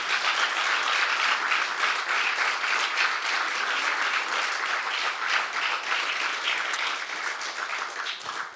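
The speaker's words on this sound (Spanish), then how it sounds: "Den un aplauso al Señor Jesucristo." A church congregation claps together during a service, giving sustained, dense applause that fills the room from start to finish and tapers slightly at the end.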